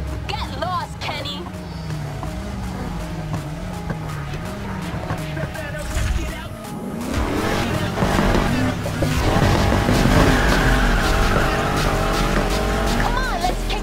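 A golden Lamborghini races in the Need for Speed Heat video game, its engine revving loudly and rising in pitch, with tire squeal and skidding under shouted voices.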